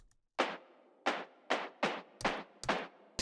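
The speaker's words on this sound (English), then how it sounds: "the snare sound like this, sounds like this, and slightly pan to the left." Six crisp snare-like drum hits, evenly spaced with a short bright decay, played alone and close, sitting slightly to the left.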